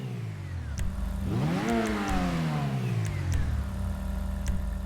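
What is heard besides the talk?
car accelerating through gears in GTA Online video game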